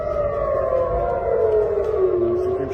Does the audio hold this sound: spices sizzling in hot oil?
no